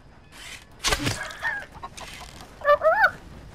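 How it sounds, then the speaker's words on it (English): Chickens in the video game Red Dead Redemption 2 make a few short squawks and clucks close by, with a sharp flurry near the start and a burst of clucking toward the end. "Bye, chickens, run!"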